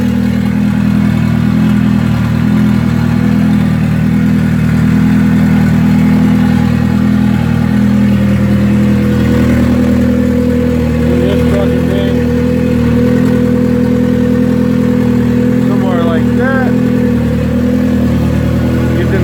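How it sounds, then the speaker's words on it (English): A turbocharged Hyundai Tiburon engine idles at close range after sitting unstarted a long time, a low mechanical hum with faint clatter running evenly throughout, no one speaking. "The engine sounds pretty good for not being started up in a long time."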